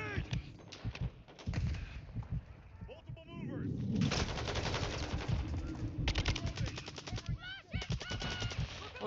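Enemy gunfire in Call of Duty Modern Warfare 2 crackles in rapid automatic bursts and single shots, loud and sustained, with game voices and effects mixed in.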